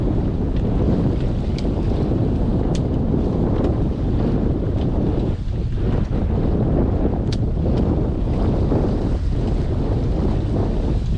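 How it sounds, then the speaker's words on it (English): Steady gusting wind roars across a microphone aboard an Albin Ballad sailboat lying hove to, with wind from the starboard side; constant and loud throughout, with faint water and rigging ticks underneath and no talking. "you do have the wind coming from the starboard side"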